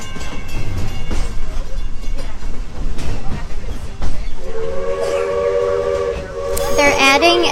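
A train at the Magic Kingdom rumbles and clatters along the track, then a loud steady steam whistle sounds near the end over the rolling noise.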